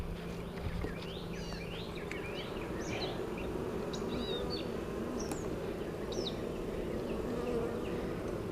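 Honey bees swarm around an open hive during a summer inspection, producing a dense, continuous close-up buzz, with a few bird chirps faintly in the background and no speech.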